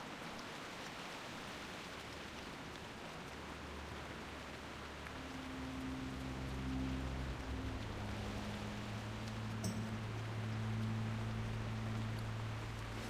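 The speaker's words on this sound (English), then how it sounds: "ASMR Ashenvale rain" Rain in Ashenvale from World of Warcraft, a soft, even patter of rainfall, faint and steady throughout, with a low sustained hum and tones rising beneath it partway through.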